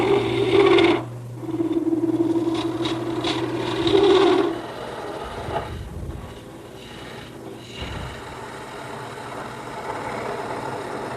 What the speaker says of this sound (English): So that my dowel is nice and straight, I'm going to use my scraper to get a straight edge on it.